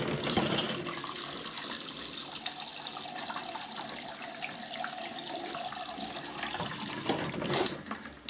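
Hot water pours steadily from a tap into a sink, a continuous hissing splash that holds for several seconds, swells briefly near the end, then fades as the flow seems to change.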